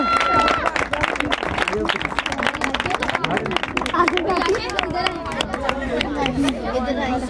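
Audience applause for a Christmas speech, a crowd clapping steadily throughout with chatter and murmuring voices mixed in, fairly loud and close.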